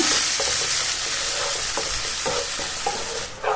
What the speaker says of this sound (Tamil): அரைச்சி வச்சுருக்க அந்த கொத்தமல்லி பேஸ்ட்டை இதில் ஊற்றிக்கலாம். நல்லா கிண்டிடுங்க